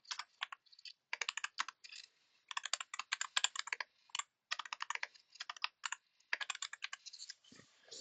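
Rapid typing on a computer keyboard, with bursts of close, crisp key clicks separated by short pauses, and no voices.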